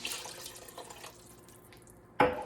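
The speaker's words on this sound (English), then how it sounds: "I'm gonna put a little more water" Water poured into a cooking pot for a vegan lasagna, a soft running trickle fading out, then a sudden louder splash near the end.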